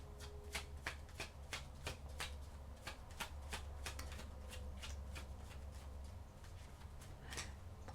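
Tarot cards being shuffled in quick repeated riffles, a steady flurry of crisp card flicks and snaps close by, with no talking.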